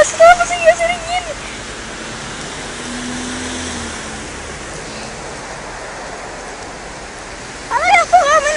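Rushing water flows in a steady broad hiss, fairly close and continuous, with someone speaking briefly at the start and again at the end.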